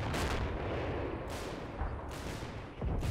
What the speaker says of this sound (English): Need this barrage to stop.